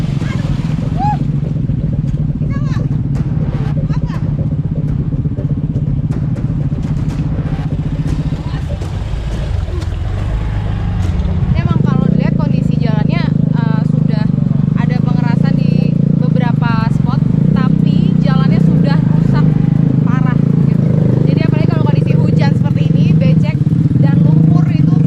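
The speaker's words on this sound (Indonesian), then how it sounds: "Motor yang saya tumpangi tidak kuat menerjang kubangan" A motorcycle carrying a passenger labors through deep mud puddles on a badly damaged village road near Matotonan, Indonesia. Its engine drones steadily under continuous talking and grows louder and rougher partway through.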